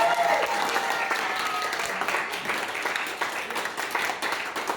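Classroom applause for a winning student group during a teaching practice session, a steady wash of many hands clapping at moderate distance, continuing evenly throughout.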